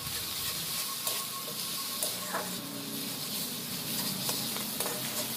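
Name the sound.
stirring salt and turmeric in fish oil in a pan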